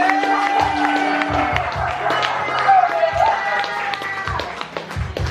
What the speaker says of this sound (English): I want you to clap it up for Hallie